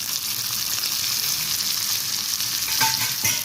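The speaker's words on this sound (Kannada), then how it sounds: "ಅದಕ್ಕೆ ಫ್ರೈ ಇವಾಗ ಮಟನ್ ಹಾಕ್ಕೊಳ್ಳೋಣ." Mutton pieces, about 150 grams, frying in a pan with salt and turmeric, a steady close sizzle with a few stirring scrapes near the end.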